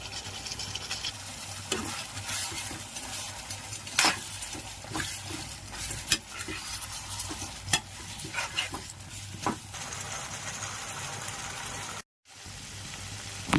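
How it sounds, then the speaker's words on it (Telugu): Fried cauliflower gobi manchurian is stirred through a thickening gravy in a pan, with a steady sizzle and bubbling under repeated sharp scrapes and clinks of the spatula, close up and with no talking. "గ్రేవీ గోబీకి పట్టేంత వరకు ఫ్రై చేసుకుని తర్వాత సర్వ్ చేసేసుకోవచ్చు"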